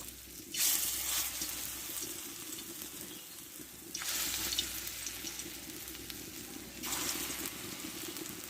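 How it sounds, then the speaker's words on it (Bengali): Lentil and pointed gourd vine fritters fry in a kadai of hot oil with a steady, close sizzle. Three louder hissing surges rise when fresh batter hits the oil, with no talking. "এবার বড়াগুলো আমি ভেজে নিব ছোট ছোট করে আমি নিব"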